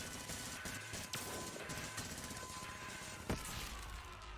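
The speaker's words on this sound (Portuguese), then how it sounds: "Rifle de caça." Hunting rifle gunfire in Far Cry 6, a Ubisoft shooter game, with sharp shot cracks standing out over dense, continuous battle noise and a heavier blast near the end.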